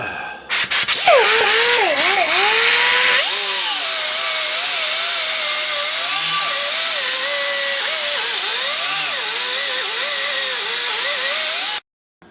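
An air-powered shop tool resurfacing a glazed front brake rotor on an Impala Caprice, a loud, continuous high whine with a grinding scrape whose pitch wavers as pressure changes, close by and running steadily until it cuts off.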